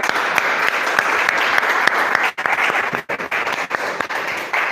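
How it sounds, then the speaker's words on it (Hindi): Audience at a police recruitment coaching session claps loudly, a dense burst of many hands that drops out briefly twice and then resumes in thinner, scattered claps. "चलिए ताली बजाइए।"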